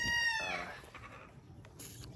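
Free-range egg-laying hens with a rooster on a farm: a loud rooster crow opens, trailing into scattered hen clucks and rustling farmyard noise.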